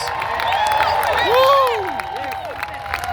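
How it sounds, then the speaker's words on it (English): A crowd at an outdoor concert for the 60th Selma to Montgomery March cheers and applauds, with rising and falling whoops over a steady roar of clapping. "Cheer for all of our veterans."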